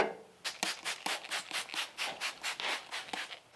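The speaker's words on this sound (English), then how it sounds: "Gonna start slipping in that door seal now" Worn rubber weather-stripping seal being worked into the door of an old Chevy square-body dually truck, heard as about a dozen quick, rhythmic rubbing strokes, close and soft, with no talking.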